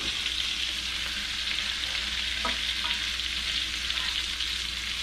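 Catfish nuggets from a giant blue catfish frying in a pan, a soft steady hiss of sizzling oil with a faint stir or scrape, quiet and close with no talk.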